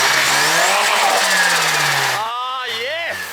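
Turbocharged BMW M43 four-cylinder engine in a 316i/318i on a test drive, a loud steady drone rising in pitch as it accelerates, then a brief gear-change dip and renewed revving, with voices over it.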